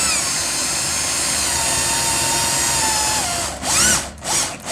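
A power drill drives screws up into ceiling timber while overboarding a ceiling, whining loudly and steadily up close, then bogging down in a few short bursts as a screw pulls tight.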